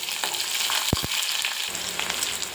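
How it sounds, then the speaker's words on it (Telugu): Green and dried chillies frying in hot oil, a steady close sizzle and crackle with two brief low knocks partway through, no voices. "ఈ పచ్చిమిర్చి ఇవి వేగిన తర్వాత మనం ఉల్లిపాయలు వేసుకుందాం"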